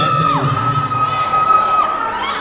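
A school assembly crowd of children at a kids' tour stop screaming and cheering together, a dense sustained roar with a shrill whistle-like tone riding over it throughout.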